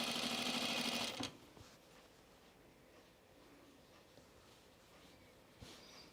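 A sewing machine runs in a short, fast stitching burst winding down the bobbin thread, loud and close for about a second, then stops to a quiet room hum with a faint click near the end.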